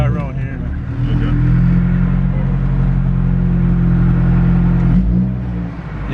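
A Honda Type R car engine, EK9 or DC2, revving high at a steady, loud drone that holds for several seconds before dropping briefly and rising again.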